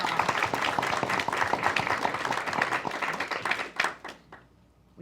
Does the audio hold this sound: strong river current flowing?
no